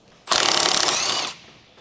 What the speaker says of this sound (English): Use a 19mm deep socket with an electric impact wrench to remove the rear bushing mounting bolt